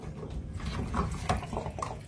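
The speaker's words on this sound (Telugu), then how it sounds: "ఈ నాప్ తిప్పితే వచ్చేస్తుంది. వాటర్తో పాటు వచ్చేస్తుంది బయటకి." Water drains out through the opened filter cap of a Samsung Ecobubble washing machine, a steady close trickle and splash with no one speaking.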